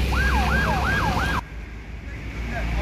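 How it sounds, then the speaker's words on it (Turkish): Wailing ambulance siren at a road accident scene, rising and falling in a steady repeating sweep, loud and close for about a second and a half before cutting off abruptly, leaving traffic rumble and a faint return of the siren. "Ambulans önünde git."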